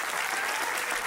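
An audience at a talk claps for itself, a dense, steady burst of applause from a crowd filling the whole moment.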